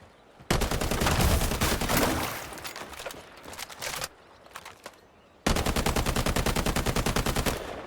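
Rapid automatic rifle fire in the video game Highguard: a long loud burst, a scattered stretch of shots, a pause, then another even, fast-rhythm burst, close and alone.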